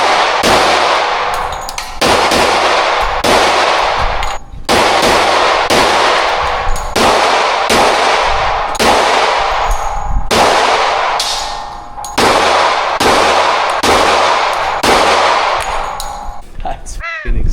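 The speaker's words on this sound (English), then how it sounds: "Shooting 10 mil." A 10mm handgun fires rapid, evenly spaced shots at a steel target, each report ringing with a loud metallic clang. About fifteen sharp impacts fill the stretch, with brief pauses between strings of fire.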